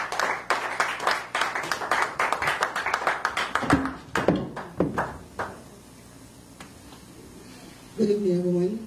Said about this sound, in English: Another applause for you.